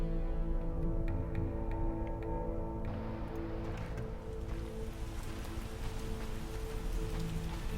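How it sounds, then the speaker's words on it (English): Steady rain patters heard from indoors in The Witcher, a soft continuous hiss of drops with faint tapping, layered over a low sustained tonal game ambience and no voices. "Wow, you can even hear the rain inside."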